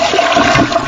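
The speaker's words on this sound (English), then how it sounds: "Let's just flush that one right there." A toilet flush sound effect, a short loud gurgling rush of water lasting about a second with no talk over it.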